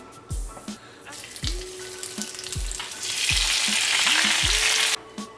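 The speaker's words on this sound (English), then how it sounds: "we're gonna put our shrimps on the griddle" Shell-on shrimp dropped onto a hot griddle, a few sharp thuds and clatters followed by a rising, loud hissing sizzle that fills the middle and end before cutting off.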